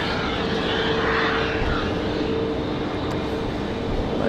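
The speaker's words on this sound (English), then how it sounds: "As you hear there's a Frontier starting up down there." A Frontier airliner starting up at Raleigh Durham International airport makes a steady broadband jet roar with a faint thin tone, heard from a distance and continuous throughout.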